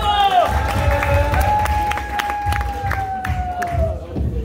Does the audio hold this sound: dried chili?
no